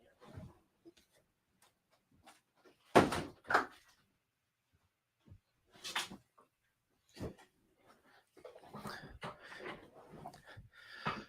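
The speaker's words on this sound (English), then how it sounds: "All right, I got to close my door." Indoors on a windy day, a door swings shut with a couple of sharp, loud knocks close by, followed by scattered small clicks and rustles, and brief talk near the end.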